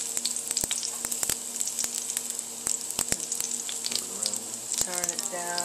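Vegetables sizzle steadily in hot duck fat, a dense continuous crackle with sharp pops and occasional utensil clicks, close and fairly loud, with a brief voice near the end.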